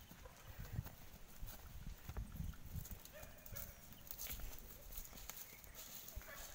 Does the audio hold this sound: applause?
no